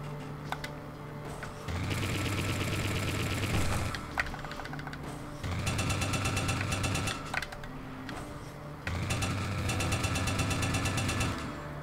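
Drilling in SteamWorld Dig comes as three bursts of buzzing, rattling mechanical grinding, each lasting a couple of seconds, separated by short pauses with small digging clicks.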